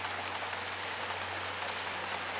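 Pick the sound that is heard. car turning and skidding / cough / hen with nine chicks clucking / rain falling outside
rain falling outside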